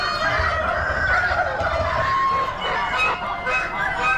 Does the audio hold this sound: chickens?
yes